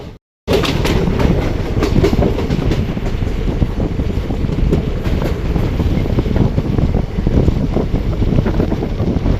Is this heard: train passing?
yes